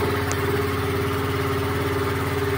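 A new 12HP low-speed engine set up on a small boat idles with a steady, even low thrum, close and continuous throughout, no talking.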